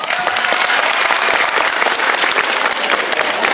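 Dense audience applause from a live comedy show in Bremen, loud and continuous clapping throughout with faint crowd murmur.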